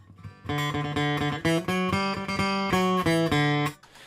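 An acoustic guitar, played through a Tone Dexter processing pedal, plays a short, steady run of picked notes and chords, bright and even in rhythm, with no voices.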